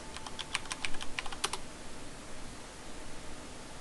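A password is tapped out on a computer keyboard in a quick burst of crisp, close key clicks during the first second and a half, followed by quiet room tone.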